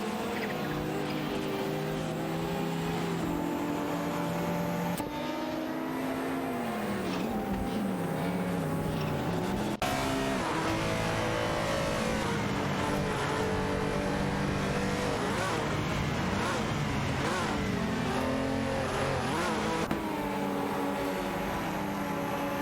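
Racing cars in a video game, among them a Ford Sierra RS 500 and a Ferrari 288 GTO, with engines whining and shifting pitch continuously as several cars pass and rev through gears at steady loudness.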